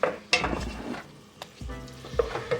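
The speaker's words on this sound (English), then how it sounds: "You can turn the heat up just a little bit. And just keep stirring it." Chicken pieces with onions and garlic sizzle and fry in a pot while a spoon stirs them, giving a steady close sizzle with a few scraping clinks against the pot.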